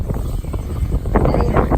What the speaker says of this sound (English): It's really windy. Super windy!